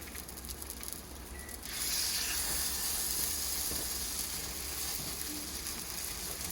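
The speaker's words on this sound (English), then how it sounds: "Once you have your cooking oil frying, place the arepas down" Hot cooking oil heated to about 375 degrees sizzles and hisses steadily in a pan as arepas go in, growing louder after a couple of seconds and continuing as a bright, crackling frying sound.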